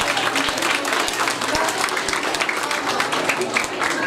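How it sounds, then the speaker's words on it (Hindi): Parents applaud students at an Islamic educators school event, a dense steady wash of clapping running throughout with occasional sharper claps and some voices mixed in. "बच्चों की हौसला अफजाई तालियां बजा के अच्छी तरह करें।"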